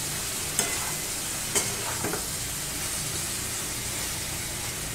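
Soybean chunks sauté in a pan under a constant, close frying hiss, punctuated by a few quick scrapes and taps of a spatula against the pan.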